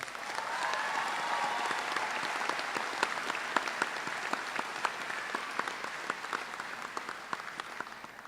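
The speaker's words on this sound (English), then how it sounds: "So let's hear a round of applause for that." A crowd at a graduation ceremony applauds steadily throughout, dense clapping with sharp individual claps standing out, sustained and fairly loud with no voices.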